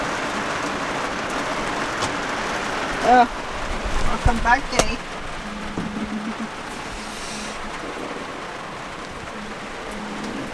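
Rain falling steadily outside a van, a continuous soft hiss of drops throughout, with a brief voice and some handling knocks in the middle.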